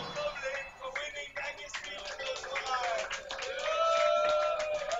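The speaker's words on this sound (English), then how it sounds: "A round of applause for the Koiden kid." A crowd claps and cheers at a Super Smash Bros. Melee video game tournament grand final, a swelling round of applause that grows louder toward the end, with voices talking over it.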